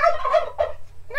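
Turkey gobbling close by in a farmyard, two rapid gobbling bursts with a pause before a third call begins, loud and alone without talk.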